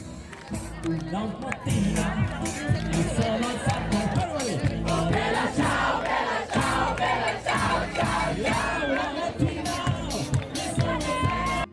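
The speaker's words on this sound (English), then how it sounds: "I watched this guy play a few songs to a pretty lively crowd" A lively crowd gathered around a street musician in Montmartre, Paris, singing, shouting and cheering along over the music in a loud, continuous hubbub with occasional claps.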